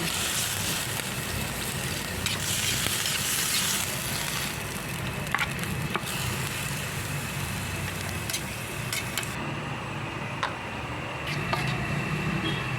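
Marinated pork for igado sizzles and crackles in a hot pan with garlic and onion, a steady frying hiss with scattered sharp pops and occasional clatter, no talking.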